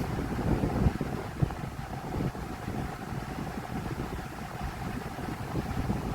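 A Vornado Silver Swan Alchemy desk fan blows air close to the mic, making a steady, rumbling whoosh like wind buffeting. It runs continuously for the whole stretch with no talking.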